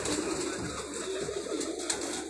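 Soft, repeated cooing comes from a rooftop pigeon in Punjab with Firozpuri-style markings, regarded as a Teddy, a low steady murmur running through a couple of seconds with no talk.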